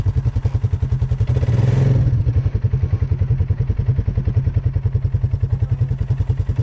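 Motorcycle engine idling and puttering on a trail detour, a steady rapid low thumping pulse close by, swelling briefly with a revving surge before settling back to an even beat.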